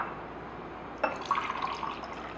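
Plain water being poured into a container during a water-ionizer demo, a sudden splash onset followed by a steady, close gurgling pour, fairly quiet and with no talk.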